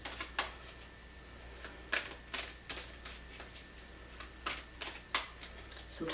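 Tarot cards are shuffled by hand, giving a string of crisp riffling bursts and soft slaps at an uneven pace, close and fairly quiet over a faint steady hum.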